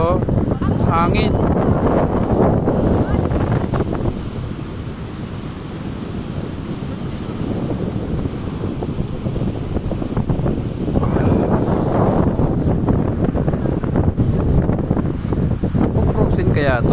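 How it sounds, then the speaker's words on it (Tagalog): Strong, cold wind beside a partly frozen lake at Leddy Park, Vermont, buffets the microphone with loud, rumbling gusts that surge, ease off briefly, then build again. "Lamig ng hangin, grabe."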